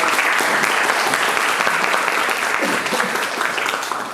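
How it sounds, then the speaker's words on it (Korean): Loud, dense audience applause fills a forum hall after a session of speaker talks, a sustained even roar of many hands clapping at close range. "수고해주신 연사분들께 다시 한번 큰 박수 부탁드리겠습니다"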